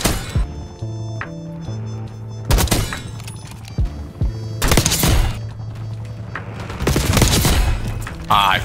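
Gunfire in the video game Black Ops 6 comes in repeated loud bursts of rapid shots and impacts, separated by brief lulls filled with a steady in-game hum.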